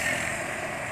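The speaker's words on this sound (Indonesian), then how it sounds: "ini suara mesin sudah lebih halus sepertinya ya" A scooter engine running smoothly on Motul GP Matic 10W40 oil, giving a steady, even drone that holds at a constant level throughout with no talk.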